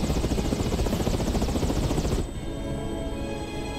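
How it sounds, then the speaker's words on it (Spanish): Helicopter in the Resident Evil 6 video game, a loud rapid rotor chop pulsing steadily before dropping abruptly to a quieter, thinner drone partway through. "Oye, el helicóptero."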